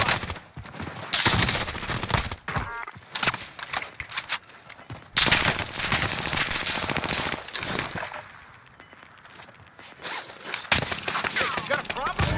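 Rapid automatic gunfire rattles through a Call of Duty Rebirth Island match. Dense bursts come in loud volleys, broken by short gaps, as players talk over the shooting.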